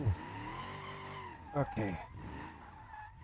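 Car tires squeal and skid through drifting in the BeamNG video game, with swooping engine revs rising and falling, a sharp screech near the middle, and a brief spoken word over it.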